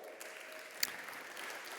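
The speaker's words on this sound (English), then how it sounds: "You can clap for each one," Scattered clapping from a conference audience at the BCBH Houston 2025 event, fairly quiet and even, with one sharp louder clap standing out near the middle.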